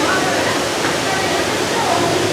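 Waterfall beside a zoo pathway at Henry Doorly Zoo in Omaha, Nebraska, a steady, even rush of falling water, close and continuous with no break.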